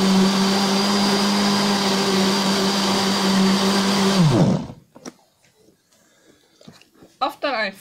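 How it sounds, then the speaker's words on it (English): A roadside juice-stall mixer blends a banana milkshake with a loud, steady whine that runs for about four seconds, then winds down and stops, followed by faint handling clatter. "After I finished, hit the juice in the mixer."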